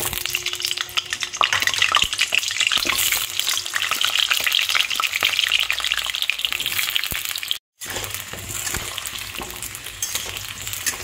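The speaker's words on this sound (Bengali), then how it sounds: "কড়াইয়ে তেল দিয়ে দিয়েছি, তেলটা গরম হয়ে গেছে। এবার আলুগুলো ভেজে নেব।" Potatoes frying in hot oil in a kadai for a chicken curry, a continuous close, loud sizzle and crackle with occasional stirring scrapes, broken by one brief cut.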